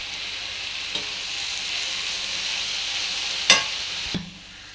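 Bottle gourd curry with coarsely ground peanuts being stirred in a pan, a steady soft sizzle under a few scraping strokes and one sharper clink of the spoon near the end, with no talking.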